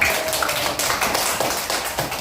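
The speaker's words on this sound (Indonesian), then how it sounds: "Beri tepuk tangan dulu Reja" Schoolchildren in a classroom clap for a classmate, a brisk scatter of hand claps from a small group, close and lively, fading slightly toward the end.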